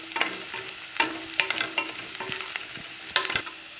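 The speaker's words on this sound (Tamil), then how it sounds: "இப்போ இது நல்லா டிரான்ஸ்பரண்ட்டாக ஃப்ரை ஆயிடுச்சு." Onions frying in a pan with cashew nuts and green chillies, a soft continuous sizzle under repeated spoon stirs and scrapes that come in short, uneven bursts, with no voices.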